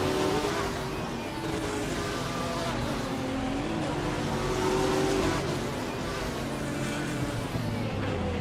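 Race cars in a racing video game engine-roar continuously as they battle and overtake, a dense, steady drone with rising and falling pitch from revving motors throughout.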